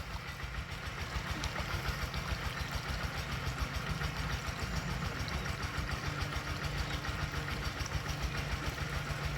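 A water pump engine idles steadily, a loud, continuous mid-pitched chugging with a rapid regular pulse that stays close and unchanging throughout, with no talking.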